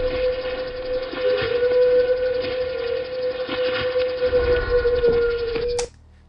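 A pitched-down recording of alleged Bigfoot vocalizations: a single sustained, steady whistle-like tone with a droning, horn-like quality that holds for about six seconds and then stops abruptly.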